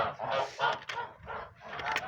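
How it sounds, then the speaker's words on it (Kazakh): Linda and large grey breed geese in a farmyard poultry house call out with several close, nasal honks in quick bursts over about two seconds, with no talk. "Линда мен крупная серая породасы қаздар."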